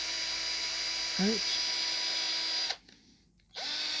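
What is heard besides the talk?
power drill running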